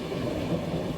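Steady rumble of a passenger train travelling toward Araku Valley, heard from inside as a continuous low rolling noise with no talk.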